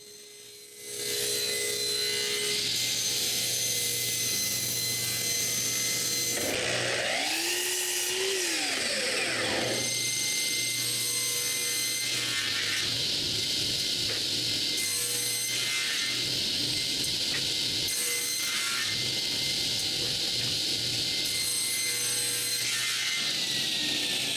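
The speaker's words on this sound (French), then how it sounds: "Pour la tête, je coupe un autre bout de tilleul plus petit" A smaller block of linden (basswood) is cut for a carved Canada goose head, producing a loud, continuous rasping saw that runs almost throughout, with a brief pitch sweep partway through.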